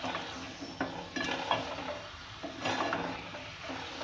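Beef frying in a pot for nihari, a close sizzle under repeated spoon scrapes and metallic knocks against the pot as the meat is stirred, uneven and busy throughout.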